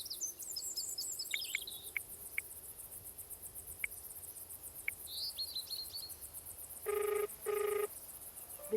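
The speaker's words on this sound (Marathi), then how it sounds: "हा फोन का उचलत नाहीये?" A telephone rings unanswered during a call, giving two short double bursts near the end over a steady bed of crickets and scattered bird chirps, with no voices.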